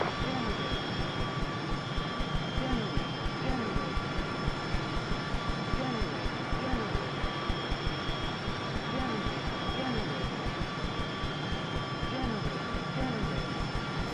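Steady jet engine drone of a Harrier in a flight simulator game, a constant whine with a rhythmic low pulsing throughout, heard under intermittent talk.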